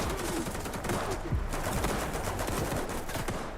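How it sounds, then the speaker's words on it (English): Distant PKM machine-gun bursts echo in S.T.A.L.K.E.R. 2 combat, rattling fire steady under a dense layer of battlefield noise, no talking. "I hear a PKM going off, but I think that's actually from friendly forces"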